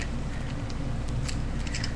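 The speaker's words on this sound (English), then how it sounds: "my fingernail clipper." A metal fingernail clipper pulled from a bag makes small clicking and rattling sounds close by, faint against a steady background hiss.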